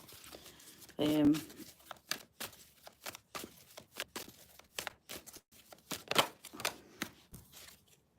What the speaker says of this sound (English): Let me just give these a good little shuffle there for a minute.